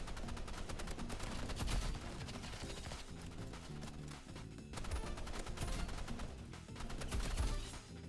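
Rapid assault rifle fire in the Roblox game Rivals, dense bursts of sharp shots coming in quick repeated volleys, loud and close, with game effects layered underneath.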